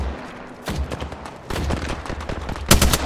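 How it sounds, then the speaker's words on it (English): Video game gunfire in bursts: scattered single shots, then rapid automatic volleys, loud and close, with the sharpest burst near the end. "Shots fired at me."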